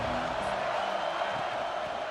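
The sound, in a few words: stadium crowd cheering in video game NCAA Football 26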